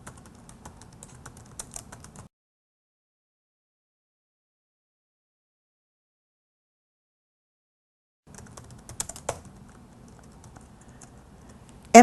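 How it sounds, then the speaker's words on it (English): Quick bursts of typing on a computer keyboard, soft rapid clicks separated by a long silent pause. "And as I'm typing, it's actually searching the internet."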